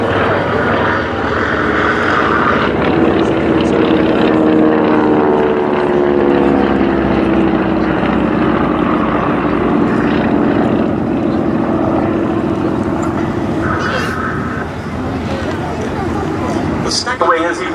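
Gloster Gladiator and Hawker Fury interwar military biplanes taxi across grass at the Duxford VE Day anniversary airshow. Their propeller engines drone steadily and loudly throughout, while a commentator talks over them.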